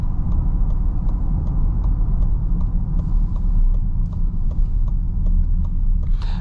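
A 2023 Lincoln Nautilus Black Label with an 8-speed transmission drives along the road. Its steady low engine and road rumble holds at constant loudness, with faint regular ticking running above it throughout.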